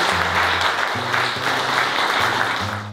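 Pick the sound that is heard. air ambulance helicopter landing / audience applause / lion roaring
audience applause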